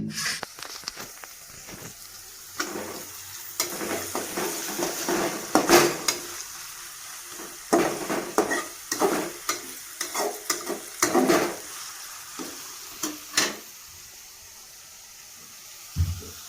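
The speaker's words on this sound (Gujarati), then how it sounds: "આપણે ડુંગળી ને એ બધું નાખી દીધું છે, ફ્રાય કરી દીધી" Onion, garlic, mustard seeds and cumin fry in a pan with a low sizzle while a spoon scrapes and stirs in irregular clanking bursts, close by.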